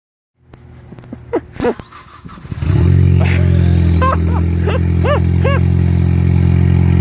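A Ford Focus sedan with a swapped ST engine and an open downpipe cranks with clattering, then fires into a loud, steady, raspy idle that dominates the scene, with excited shouts rising over the engine.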